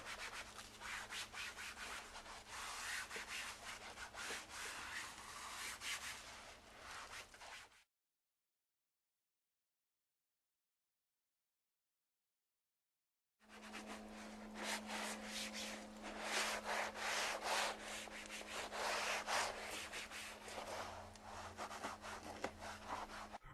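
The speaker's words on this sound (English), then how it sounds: "The Safe Scrub sponge will safely remove bugs from bumpers and paint." Soaked sponge scrubbing bugs off a car bumper, with close, continuous rubbing and squeaky scrubbing strokes in two stretches separated by several seconds of silence.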